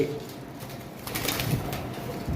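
Conure parrots at a bird market give short, sharp chirping calls over a busy, noisy background, close by and fairly loud.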